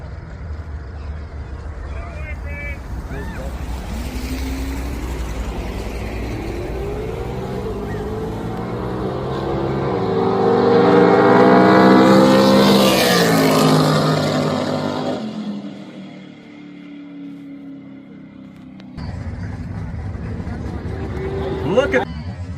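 A 1967 Pontiac Beaumont drag car at a drag strip roars down the track, its engine note climbing and peaking loudly before fading, then picking up again near the end, with an announcer talking over it.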